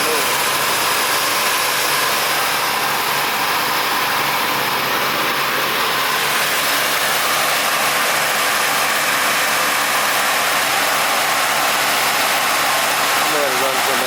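Engine running with a loose belt, a steady loud mechanical drone and hiss that holds unchanged throughout without any revving.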